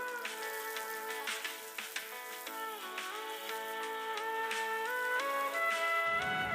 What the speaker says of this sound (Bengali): পেঁয়াজের কুচোগুলো দিয়ে ভালো করে নেড়ে চেড়ে আমি লাল লাল হওয়া পর্যন্ত এগুলোকে ভেজে নেব